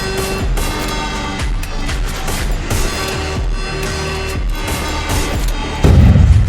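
Gunfire in the mobile shooting game Free Fire, a dense run of rapid shots and booms at steady volume, with a heavier burst near the end.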